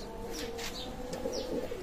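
Soft Pakistani Teddy pigeon cooing and a few chirps in a pigeon loft, over a steady low background hum, fairly quiet and close.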